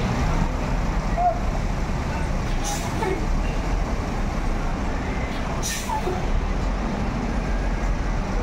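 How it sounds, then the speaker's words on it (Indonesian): MPM passenger bus idling and starting to reverse after its door closes, a loud steady engine rumble with traffic noise, broken by two short sharp air-brake hisses partway through. "Pintu ditutup dan bus siap-siap dimundurkan."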